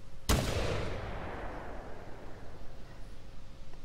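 A single rifle shot in the hunting game The Hunter 2015, one sharp crack early on followed by a long rolling echo that fades slowly into quiet outdoor ambience.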